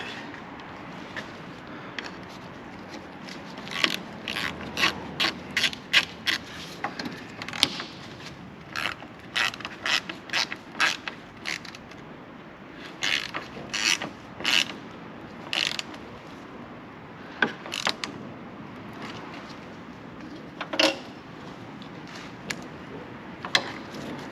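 Wing bolts on a wagon being tightened with a ratchet wrench during a rebuild: close, rapid bursts of clicking ratchet strokes in irregular runs, with pauses and occasional creaks between them.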